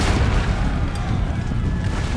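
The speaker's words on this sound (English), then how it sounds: "Cannon fire still coming in off the walls." Cannon fire from the walls in the strategy game Empire: Total War, heard as a dense, unbroken rumble of overlapping booms that stays loud throughout.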